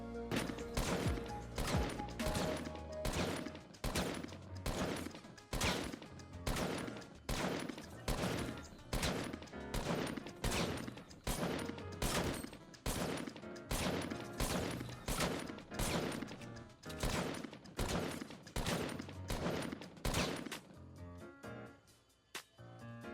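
Repeated gunshots ring out in Fortnite during an aiming drill, roughly two dozen evenly spaced, sharp reports fired one after another for about twenty seconds before stopping, with no voices.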